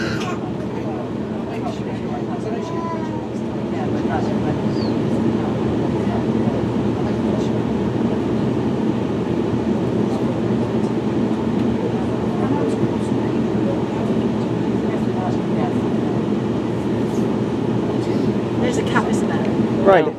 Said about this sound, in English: Welcome aboard Southwest Train Service.